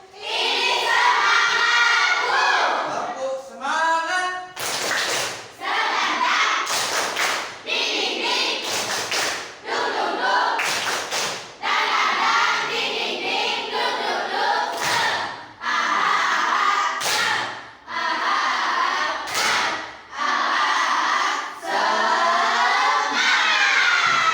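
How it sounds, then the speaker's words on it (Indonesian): A school class performs a rhythmic clapping chant, with children's voices shouting in unison and sharp bursts of group claps and thumps repeating in a patterned beat, loud and close. "kita tepuk semangat."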